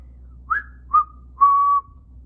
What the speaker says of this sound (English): it makes a whistling sound